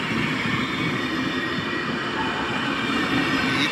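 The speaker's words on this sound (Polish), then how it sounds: "punktualnie zameldował się Beacon Vectron" A Vectron electric locomotive hauling a train arrives at Warszawa Zachodnia station, a steady loud rumble of wheels and rolling stock with a faint metallic squeal, continuous and close by throughout.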